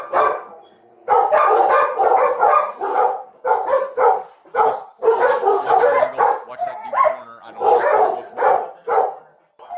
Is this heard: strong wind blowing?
no